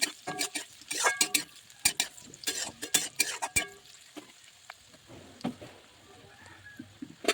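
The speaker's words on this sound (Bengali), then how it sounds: "এবার সবগুলোকে মিক্স করে আমি ভেজে নিচ্ছি" Fried rice being tossed and mixed in ghee in a pan, the spoon clattering and scraping in fast bursts over a soft sizzle, busy at first and then easing into slower, scattered strokes.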